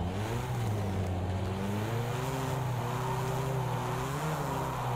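A rallycross car in Project CARS 2 drones steadily at high revs while sliding sideways, its engine pitch wavering slightly and holding loud and continuous throughout.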